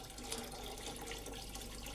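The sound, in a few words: water being poured into a traditional still's condenser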